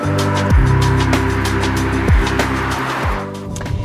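A Ford Transit Custom van with a 150 PS diesel engine drives along, a steady loud drone from the cabin with rising engine pitch that drops sharply at each of three gear changes.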